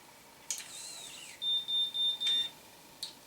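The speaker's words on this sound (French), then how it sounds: "Triple bip, je lâche." A Babyliss Perfect Curl hair curler gives a short electronic tone, then a triple beep of three quick, shrill, evenly spaced bleeps, close and clear in a quiet room, with a faint click before and after.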